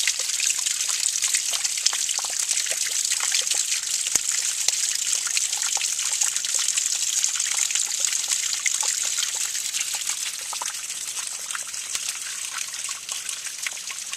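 A small waterfall at the Amazon headwaters trickles beside a hiking trail, a close steady hiss of splashing water with a few faint knocks, continuous and unbroken throughout.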